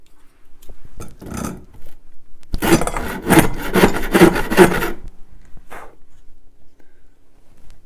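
The coarse side of a hand file rasps across guitar wood in a run of rapid, rough back-and-forth strokes, close and fairly loud, with a few isolated scrapes before and after.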